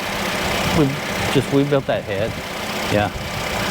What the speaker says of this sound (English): Brand new engine, first start.